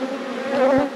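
Honey bees from a busy, strongly producing hive buzz around the open box, a dense, steady drone of many wings close by, swelling slightly and rippling as individual bees pass near.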